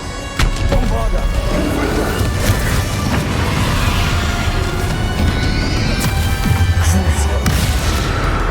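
A Bombarda blasting spell explodes in a Hogwarts video game battle, a dense and loud roaring burst that fills the whole stretch, with rumbling crashes and debris-like cracks layered over it.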